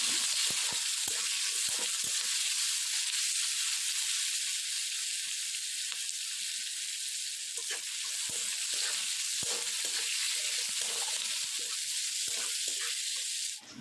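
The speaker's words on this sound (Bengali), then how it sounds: "এই পেঁয়াজটাকে ভালো করে লাল লাল করে একটু ভেজে নেব" Chopped onions frying in oil with cumin and garam masala give a steady, dense sizzle with scattered pops and stirring clicks, close and continuous, with no voices.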